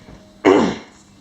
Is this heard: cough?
yes